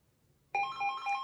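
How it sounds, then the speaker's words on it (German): A telephone begins ringing after a moment of near silence, a clear electronic ringtone of bright repeating tones, fairly close and alone. "Oh, jetzt geht mein Telefon."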